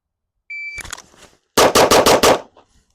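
Pistol shots fired in a timed competition string: a shot timer beep, then a fast burst of five loud, sharp, close reports in quick even rhythm, with faint ringing echo after and no talking.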